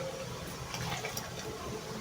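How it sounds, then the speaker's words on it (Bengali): Water poured into a pot of pulao rice, a soft continuous splashing and gurgling stream, quiet and heard alone for a couple of seconds. "আরেকটু লাগছিল, সেজন্য পানিটা দেওয়া হলো।"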